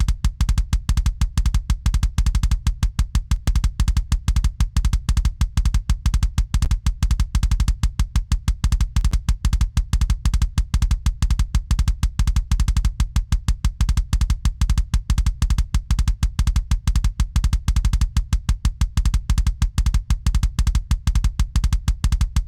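A heavily EQ'd metal kick drum, boosted slightly around the low end, pounds in a dense, rapid double-kick pattern throughout, loud and punchy with no talking.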